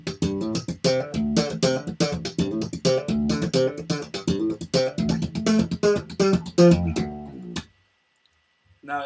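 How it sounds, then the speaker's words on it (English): Slap bass guitar played alone, a run of sharp percussive thumps and popped notes in a quick funky rhythm, loud and close, ending abruptly into near silence with a faint hum. "what slap bass is, it sounds something like this"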